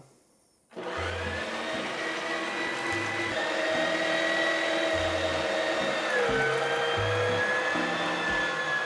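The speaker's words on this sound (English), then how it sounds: "We're gonna grind this meat up like we're trying to hide a body." Electric meat grinder with a plastic-protected body churning raw meat, a steady loud motor whine with a shifting pitch and low rhythmic thumps as chunks feed through, starting abruptly after a brief quiet moment.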